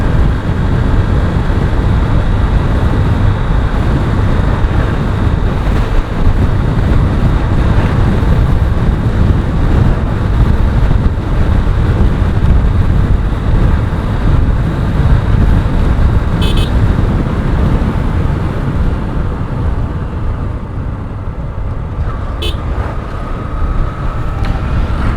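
A motorbike rides along a highway in Rajshahi, giving a steady, loud roar of engine and wind that carries on unbroken throughout.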